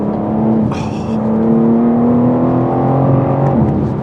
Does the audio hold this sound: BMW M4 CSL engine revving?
yes